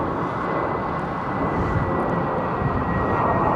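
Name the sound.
British Airways Airbus A350-1000 jet passing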